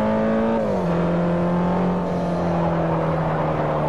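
Mitsubishi race car engine in the Forza Motorsport 4 video game, a loud steady high-pitched drone that drops in pitch briefly as it shifts and then holds a sustained roar, with no talk over it.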